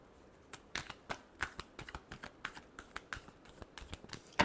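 Tarot cards are shuffled by hand in a series of crisp, quick snaps and flicks, irregular but rapid, close and fairly quiet with no one talking.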